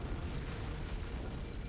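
A shipboard explosion in Halo: Combat Evolved, a dense, sustained booming roar that fills the whole stretch loudly, with no voices.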